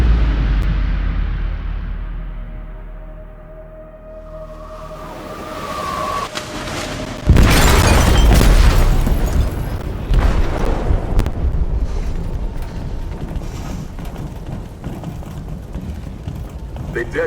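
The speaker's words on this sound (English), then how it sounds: "They detonated an explosive in the hold." A loud explosive detonation in a ship's hold in the game Detroit: Become Human, erupting suddenly into a sustained roaring rumble with debris noise after a quieter stretch of tense ambience.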